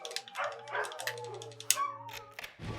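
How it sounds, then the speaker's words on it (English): Dogs barking as a sanity effect in the video game Eternal Darkness, repeated yips and barks in quick irregular bursts over a low steady hum, fairly close and clear. "Dogs are a sanity effect."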